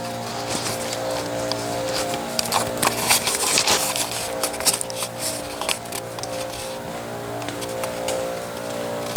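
An air compressor serving laser cutting and cleaning equipment runs steadily inside a workshop, a constant mechanical hum with broadband hiss and intermittent clattering bursts, heard fairly close and loud throughout without talk.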